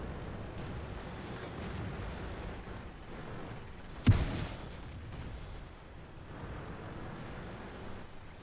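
A single heavy cannon shot from a T20 medium tank in World of Tanks, a sharp booming blast midway that rumbles off against a steady low engine drone, with no talking.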